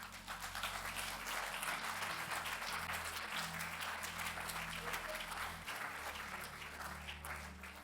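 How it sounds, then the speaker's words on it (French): Quiet, distant clapping from an audience at an Easter church service, steady and continuous over several seconds, with a low hum underneath. "On peut les applaudir bien fort."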